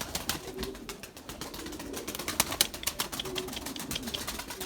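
Erzurum white pigeons coo softly at a loft, with low repeated murmurs under a busy wash of clicks, rustles and small scuffs from the birds moving around nearby.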